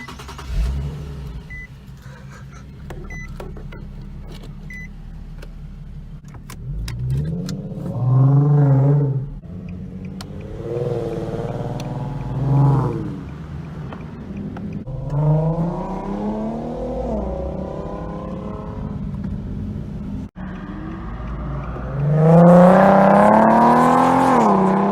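A 2014–2016 Nissan 370Z starts up and revs repeatedly, its exhaust rising and falling in several loud, close throttle blips over a steady idle, with the sharpest rev near the end.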